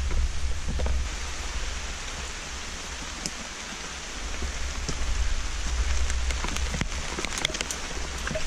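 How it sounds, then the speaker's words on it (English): Steady rain falls and patters on surfaces nearby in the abandoned town of Lost Cove, North Carolina, a dense, even hiss with scattered louder drips and no voices. "And it's raining."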